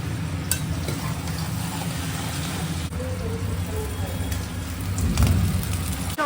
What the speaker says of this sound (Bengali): অন্ধকারের পরে ফাইনালি নেমেছে বৃষ্টি।